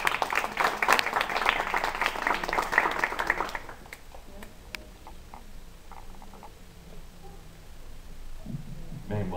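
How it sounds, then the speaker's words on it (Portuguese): Audience applause at a poetry and rock event, a dense burst of clapping for about four seconds that quickly dies away into quiet room noise with faint movement. "Uma salva de palmas."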